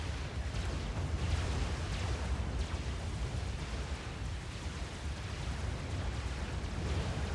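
Missile strikes pound a base in the Supreme Commander strategy game, a continuous low rumbling barrage of explosions at moderate loudness, dense and unbroken throughout.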